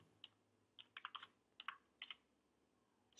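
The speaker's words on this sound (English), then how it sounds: "you can go to your terminal and here you can write command python" A computer keyboard on a macOS machine is typed on in short, quiet bursts of clicks, ending with a sharper, louder keystroke.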